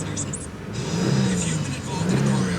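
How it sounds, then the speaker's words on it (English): A 2007 Toyota Solara SLE V6 convertible running close by, its engine rising in a couple of brief revs and settling to a smooth idle hum, with some background noise over it. "Revs up nicely, it idles smoothly."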